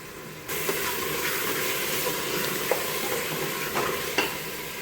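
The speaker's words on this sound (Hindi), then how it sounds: "इनको अच्छी तरह हमें पकाना है जब तक ये हमारे चिकन का कलर चेंज ना हो जाए" Chicken pieces for biryani cook and sizzle steadily in a pan, a continuous broadband frying hiss with occasional stirring clicks and scrapes, close and moderately loud, with no talking.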